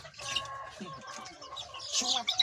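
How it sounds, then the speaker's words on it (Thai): A bantam chick clucks and peeps in soft, repeated bursts close by, with handling noises around it during a vaccination against Newcastle disease. "อืมเป็นลูกไก่แจ้นะครับ ลูกไก่แจ้"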